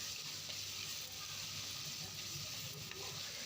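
Onion and tomato sautéing in oil with rock salt for a Tamil puliche keerai kadaiyal, a steady close sizzle with faint stirring, no voices.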